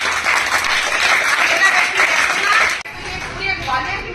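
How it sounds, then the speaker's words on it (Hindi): Audience of women applauding with loud, dense clapping for under three seconds, followed by a quieter stretch of scattered claps and murmur. "मेरी प्यारी बहनों की जोरदार तालियां।"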